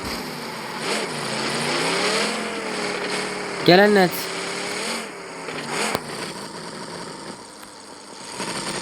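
A car engine in the video game PUBG hums and shifts in pitch as the vehicle drives, steady at mid volume, with a brief louder whine partway through and voices talking over it.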